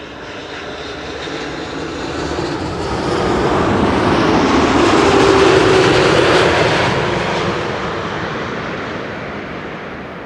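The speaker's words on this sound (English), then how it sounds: "this is KLM flight 668 arriving from Austin," A KLM Boeing 787-10 Dreamliner on arrival at Amsterdam Schiphol roars in a steady broadband jet rumble that swells to a peak midway as it passes, then slowly fades, with no voices over it.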